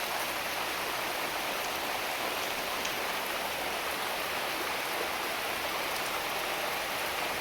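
Heavy rain driven by wind pours down in a dense, unbroken hiss, steady and close, with no voices over it.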